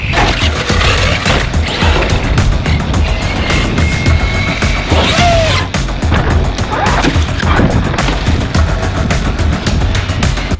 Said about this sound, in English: James, aka Hot Rod, immediately just started launching the Kraton full bore.